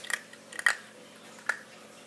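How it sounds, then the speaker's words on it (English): A puppy eats dry food from close by, with three or four short crisp crunches and bites spread across a quiet moment and soft chewing between them. "As you can hear those crunching noises"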